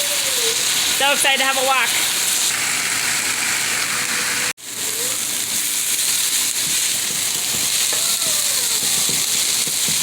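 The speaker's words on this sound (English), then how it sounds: "browning the steak" Steak browning in a hot pan gives a constant crackling sizzle that runs throughout, dropping out briefly midway, while a person talks over it.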